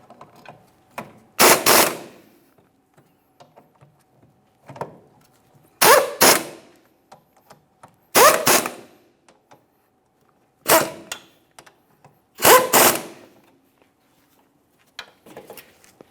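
Ratchet clicking in separate short bursts while snugging the wheel hub bolts on a 2008-2017 Mitsubishi Lancer during rear wheel bearing and hub replacement, with quiet pauses and small mechanical taps between bursts.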